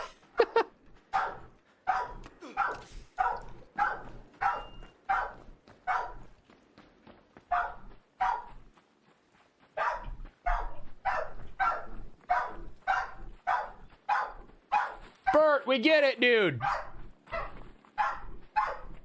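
Two dogs barking back and forth in a steady series of sharp, evenly spaced barks, fairly close, ending in a rising whining yelp; someone speaks briefly over them.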